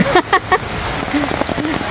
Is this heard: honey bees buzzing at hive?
no